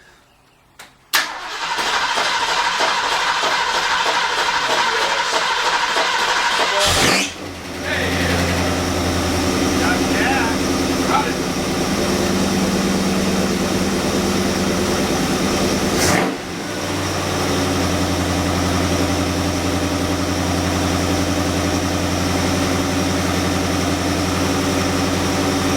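The Project 302 car engine cranks and catches, then runs at a loud, steady idle close by. Its note dips and surges briefly twice before settling into a continuous rumble.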